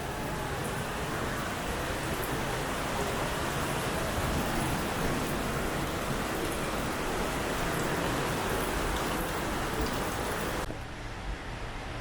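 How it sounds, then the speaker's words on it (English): Continuous broadband rushing of water, a steady hiss and patter like runoff trickling over rock at an abandoned western theme park in Kentucky, constant throughout with no voices. "water trickles from the rocks."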